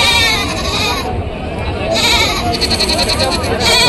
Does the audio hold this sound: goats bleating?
yes